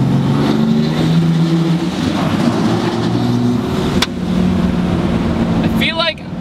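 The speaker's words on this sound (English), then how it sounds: "you still have the loud kind of Mack truck sound to it" Cummins diesel engine in a Dodge truck drones steadily while driving, a loud low rumble with constant road noise throughout, briefly dipping near the end.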